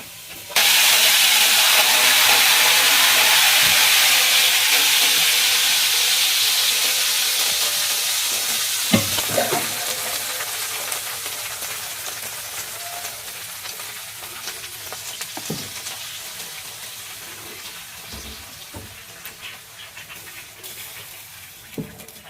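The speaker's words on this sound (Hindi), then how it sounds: "ये चूल्हा बंद कर देंगे और ये मिर्चों को डाल के फौरन ही तड़का लगा देंगे कि ये काली ना हो जाए फौरन।" Green chillies dropped into hot oil for a curry tadka, with the stove switched off, sizzle and hiss loudly at first, then the frying fades steadily over about twenty seconds, with a few clinks and stirs along the way.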